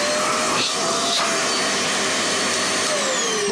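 Vacuum cleaner running with its hose pulled off the body, giving a loud, steady motor whine and airflow roar close by, with slight shifts in pitch and no talking.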